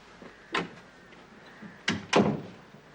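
A door in a 1977 period drama is pushed shut indoors, with a soft thump followed a moment later by two firmer knocks of wood settling into the frame, fairly near and with no talk.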